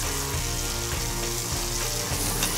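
Baby onions frying in olive oil in a hot pan, a steady close sizzle and crackle that continues without pause, no voices.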